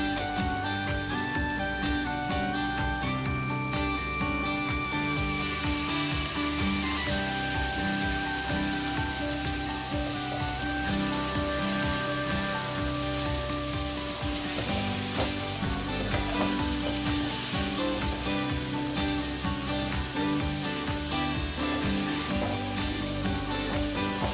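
Fenugreek leaves with softened tomato are stirred in a hot pan, giving a loud, steady sizzle and frying crackle throughout with occasional scraping of the spoon, close up and with no talking.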